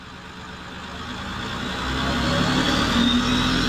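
A KIOTI tractor engine runs steadily and rises in pitch and loudness partway through during DPF regeneration, settling into a higher, sustained idle at 2,500 RPM with a low droning hum.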